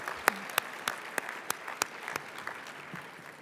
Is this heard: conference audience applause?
yes